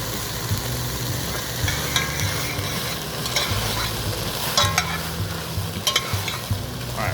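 Onions with the Cajun trinity of celery and bell pepper, plus Cajun seasoning, sweating over lower heat in a pan, a steady soft sizzle under occasional utensil scrapes and a low background hum.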